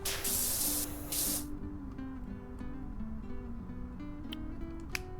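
Pressure washer nozzle spraying in PowerWash Simulator, loud hissing bursts at the start, then softer steady spray with game music tones underneath.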